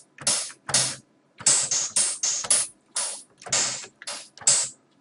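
A rapid series of sharp, bright synthetic snaps from an Ensoniq ESQ-1 patch, about ten crisp bursts in an uneven rhythm, each with a short bright tail, close and clear with no talking.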